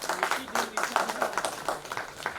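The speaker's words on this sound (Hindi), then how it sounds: "एक बार जोरदार ताली बजाएं" Audience at a literary session in the Patna Museum breaking into brief, moderately distant rhythmic clapping, a patter of hands lasting a couple of seconds.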